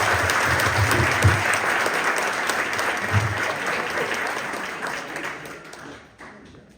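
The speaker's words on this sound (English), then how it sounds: "let's go ahead and clap it up" A school awards ceremony audience applauds loudly and steadily for several seconds, a dense wash of clapping that gradually thins and fades out at the end.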